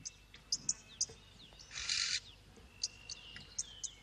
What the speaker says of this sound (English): For Duke, the birds remove the parasites and warn if danger threatens.